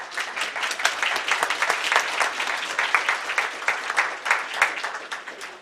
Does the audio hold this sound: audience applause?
yes